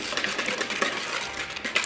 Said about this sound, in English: just stir them up, trying to mix them together, the cocoa powder and your icing sugar